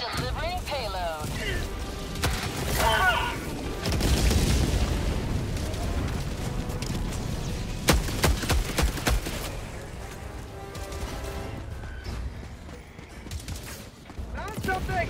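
Air strike payload detonating in the video game Helldivers 2, a dense run of booming blasts and crackling bursts through the middle of the stretch, with a voice talking over parts of it.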